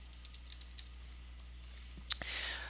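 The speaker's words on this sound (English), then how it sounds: "then I can type text inside of there" Typing on a computer keyboard comes through as a quick run of light clicking keystrokes, faint and fairly close, followed by a louder clack and a short rustle at the end, with no one talking.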